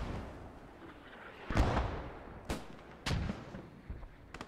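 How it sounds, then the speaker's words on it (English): German mortar rounds land in a Post Scriptum tournament match, several fairly distant, muffled booming impacts spaced about a second apart over a low rumbling battlefield background, with no voices. "this is German mortars coming down now."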